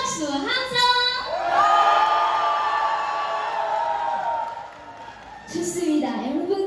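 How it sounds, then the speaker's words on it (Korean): Festival crowd at the Geumsan samgyetang festival bursting into applause and shouts, a broad wash of clapping with long cheering voices and whoops, easing slightly before a fresh rise at the close. "공연장이 흔들릴 정도로 박수와 합창!"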